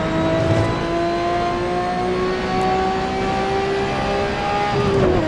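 In Assetto Corsa, a 1977 Broadspeed Jaguar XJ12C with a 5.4-liter V12 screams at high revs near 8,000 RPM, a sustained, loud engine tone with steady harmonics and a slight pitch dip near the end.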